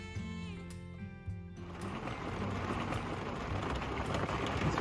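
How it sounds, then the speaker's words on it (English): Steady rain patters on a truck camper during a rainy fall night in New England, a dense, even wash of drops that builds slightly after the opening seconds and carries on without a break, with no talking. "It's raining."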